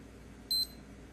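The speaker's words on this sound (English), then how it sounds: "Every button here beeps except the light" A single short electronic beep from a Puma black digital watch button, high-pitched and clear against a quiet background.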